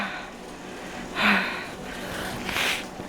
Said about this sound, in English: I might have to blow my nose